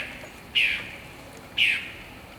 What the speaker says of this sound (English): Dang bird.